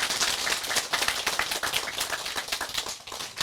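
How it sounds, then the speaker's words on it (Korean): Audience clapping at a Buddhist temple ceremony on Gyeryongsan, a brisk, uneven patter of many hands held close and steady for a few seconds with no talk over it. "이 두 분에게도 큰 박수 보내주세요."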